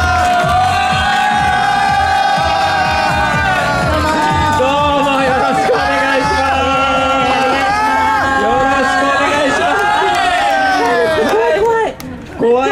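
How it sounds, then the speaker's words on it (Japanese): Audience applause and cheering welcome guests onto a stage at a promotional event, with music playing throughout and the crowd noise sitting underneath it. "皆様大きな拍手と歓声でお迎えください。"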